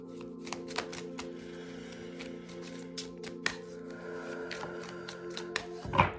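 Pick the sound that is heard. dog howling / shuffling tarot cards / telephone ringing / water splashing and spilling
shuffling tarot cards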